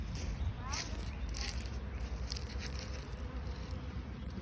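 Honeybees buzz around a friend's backyard hive, a dense, continuous drone with individual bees passing close by, faint and even throughout with no talking.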